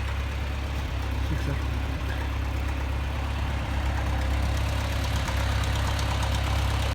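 A farm tractor engine runs steadily close by, a low, throbbing idle with a constant rumble and faint knocking pulses, heard alone on a farm where cattle are being fed round hay bales.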